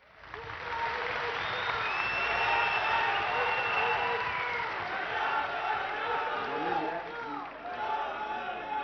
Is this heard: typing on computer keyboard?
no